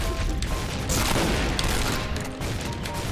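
Dual shotguns fire in a Point Blank online shooter game, a dense, loud volley of blasts and booms with clicking mechanisms, continuous with brief dips, no speech.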